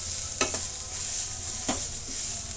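Grated carrot fries in a pan with a steady close sizzle, and two or three scraping stirs cut through the bright hiss.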